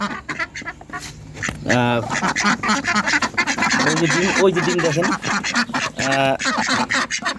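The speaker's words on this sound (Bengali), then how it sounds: "হাঁসগুলোকে আমি বার করতেছি" Ducks quack in several loud, close bursts, with a strong run near the start and another near the end, while a person talks over and between the calls on a small farm as eggs are gathered from the straw.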